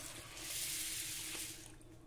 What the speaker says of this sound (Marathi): सर्वप्रथम ह्या गव्हामध्ये आपण पाणी घालू